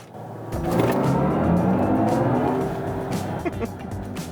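Synthetic engine sound of a BMW i4 M50 electric car, played through the cabin speakers to mimic an inline-six, rising into a steady, moderately loud drone with faint clicks and bumps.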